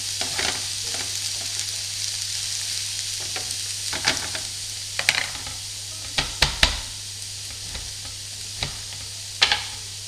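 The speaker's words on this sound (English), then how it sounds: "When you're using raw meat, you have to fry it until it goes light brown and it's no longer red." Raw meat for lasagne sizzles steadily in a hot pan, the constant frying hiss broken by a scattering of sharp utensil clicks and scrapes as it is stirred, close and clear with no talking.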